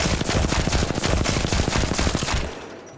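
R301 assault rifle in Apex Legends firing a long full-auto burst from a purple magazine with no stabilizer, rapid even cracks for about two and a half seconds, then cutting off into a short fading tail.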